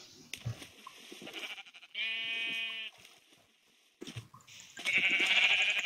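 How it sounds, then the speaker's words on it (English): Minecraft sheep bleating in a single clear, sustained digital bleat, surrounded by clicking and shuffling in-game sounds with brief bursts of other noise. "there we have some sheeps"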